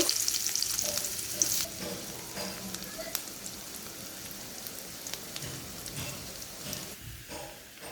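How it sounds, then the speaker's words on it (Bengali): Onions frying in a pan while cooking pabda fish and red amaranth greens, a steady close sizzle with scattered crackles and stirring scrapes running throughout, loudest at the start and easing slightly toward the end. "পেঁয়াজটা ভাজা হয়ে গেছে"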